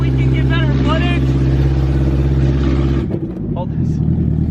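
A car's loud exhaust rumbles steadily and close with a deep throaty drone, briefly dipping near the end, while a voice speaks over it early on.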